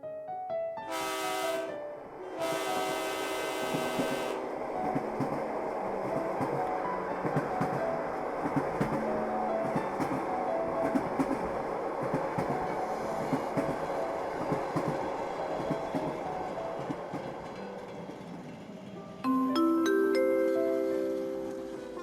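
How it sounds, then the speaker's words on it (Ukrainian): A train sound effect plays in a children's Christmas play: a long, loud, continuous rumble and clatter of rail cars, opening and closing with bright sustained tones. "Швидкісний потяг Різдвяний експрес прибуває на станцію Едем."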